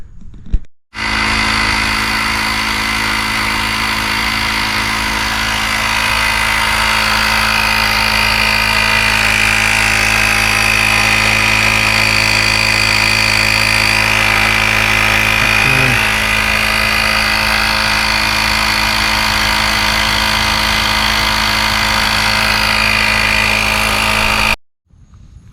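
An air compressor inflates the rear tire tube of a Billy Goat V2 eBike, running as a loud, steady mechanical drone for about 24 seconds with no talk.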